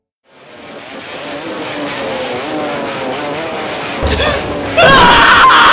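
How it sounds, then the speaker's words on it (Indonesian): Loud, raspy racing-style aftermarket exhausts on motorcycles passing by, a steady droning roar that swells and grows harsher toward the end. "suara berisik dan cemprengnya suara knalpot brong dari motor-motor yang lewat"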